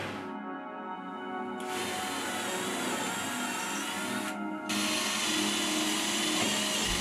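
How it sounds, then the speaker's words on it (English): Power drill boring clearance holes through the wooden hull of a 1942 71.5 ft motor gunboat during refit, a steady loud whine running throughout with a brief dip in pitch partway, no talking. "Clearance holes are drilled through the hull every 8 inches following the line of the frame inside and out."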